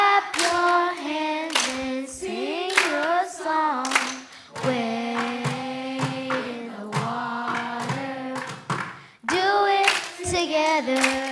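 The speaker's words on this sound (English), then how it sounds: "Clap your hands and sing your song." Hands clap in a steady rhythm along with voices singing the gospel song "Wade in the Water" at a school board meeting. The sharp claps are spaced evenly through the loud, sustained singing.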